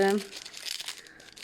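Cats rustle and crinkle through package wrapping paper on a floor, a burst of crackling paper noise that lasts the whole short stretch, with a brief voiced sound at the start.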